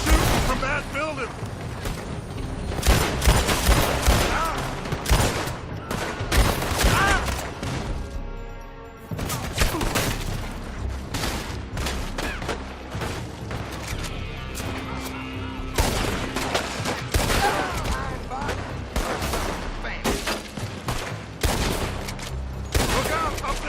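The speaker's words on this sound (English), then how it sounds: "They're shooting from that building." Rapid gunfire and scattered shots from a Western-era shootout in the video game Red Dead Redemption 2, loud and dense throughout, with bursts crowding over one another and occasional heavier booms, mixed with speech.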